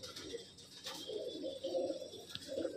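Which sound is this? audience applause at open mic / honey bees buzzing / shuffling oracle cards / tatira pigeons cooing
tatira pigeons cooing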